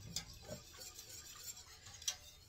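A whisk stirs oils in a bowl during handmade soap making, giving faint, sparse clinks and scrapes against a quiet background.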